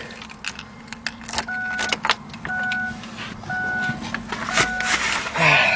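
Keys jangle close by inside a 2003 Kia Rio, clinking in several short bursts, along with door or window chimes and a low engine hum, while a person talks intermittently.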